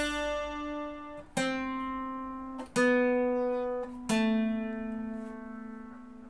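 A requinto guitar plays an ornamental run in G at a slow pace: four plucked notes ring out one after another, each decaying before the next, up close with no voices.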